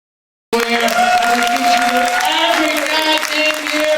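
An audience at a poetry performance breaks into applause and cheering that starts suddenly and continues as a dense, loud wash, with some voices mixed into the crowd noise.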